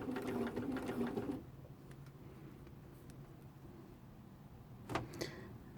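A sewing machine stitches patchwork blocks in a chain-piecing run, a loud steady whirring burst for just over a second, then quiet room tone with a few faint clicks and a short soft mechanical rattle near the end.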